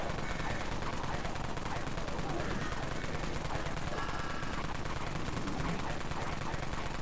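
Sustained heavy machine gun fire in Dead Frontier, a dense, continuous rapid rattle of shots at steady loudness throughout, with no pauses.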